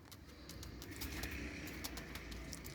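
Pure Kasuri pigeons kept by a breeder in Faisalabad coo softly, with faint fluttering and short bursts of activity over a low, steady background hum.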